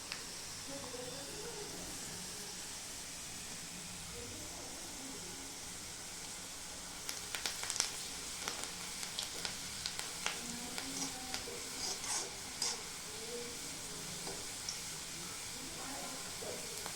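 Onions frying in a pan give a faint steady sizzling hiss, with soft scraping and tapping of stirring coming in intermittently partway through.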